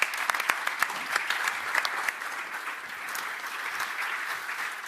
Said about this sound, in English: Ladies and gentlemen, a huge round of applause for Peter Gutzmer and Hans-Jürgen Abt